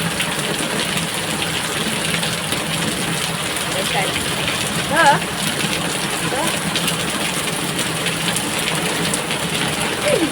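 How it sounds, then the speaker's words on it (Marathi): Steady, dense rain hisses throughout in Raigad district, India, with a brief louder splash near the middle as a truck passes and occasional voices faintly underneath. "रायगड जिल्हा जोरात पाऊस जोरात पण आला अरे बाबा पाऊस आला"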